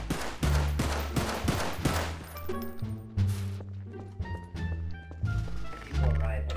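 Gunfire in the Garry's Mod DarkRP video game, with rapid repeated shots that turn into sustained bursts, loud and close, and a voice talking over parts of it.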